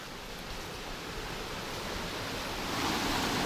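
Steady broadband rush of a 60-foot waterfall sliding down a flat, sloping boulder in Pisgah National Forest, heard close and continuous, swelling slightly louder toward the end, with no voices.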